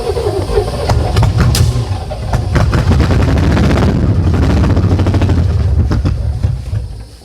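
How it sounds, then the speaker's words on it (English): Engine cranking on a 1968 Oldsmobile Toronado that has sat for 46 years, with no fuel pump hooked up: a loud, rough, chugging starter rhythm with sharp popping bursts, very close, running for several seconds before it cuts off. "I can crank it from in here."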